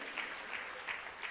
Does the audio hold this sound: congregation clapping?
yes